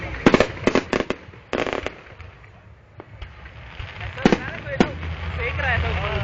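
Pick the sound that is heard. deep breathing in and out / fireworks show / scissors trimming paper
fireworks show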